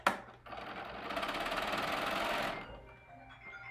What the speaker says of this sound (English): So I'm going to start here and sew that seam.